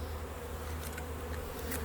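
Honeybees buzz steadily and close by as a hive is opened for inspection, a dense continuous drone with no talk over it.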